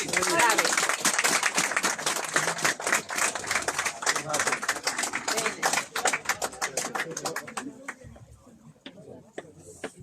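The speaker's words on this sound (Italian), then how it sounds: "Un applauso!" Applause at the opening of a new emergency centre in Gemona, a crowd clapping sharply and densely at first, then thinning and fading toward the end, with voices talking over parts of it.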